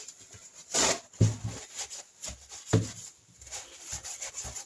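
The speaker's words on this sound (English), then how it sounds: "Just wipe it away." A cloth wipes residue off the journals of a Triumph Trident T160 motorcycle crankshaft during a rebuild. The rubbing comes as a few soft, uneven strokes, close by and fairly quiet.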